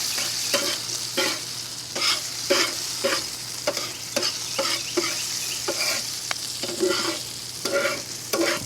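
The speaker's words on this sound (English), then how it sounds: "we're just going to get that seasoning nice and mixed in" Food being tossed with seasoning on a Weber Traveler griddle outdoors, steady sizzling punctuated by rhythmic metal spatula scrapes and taps, close and unaccompanied by talk.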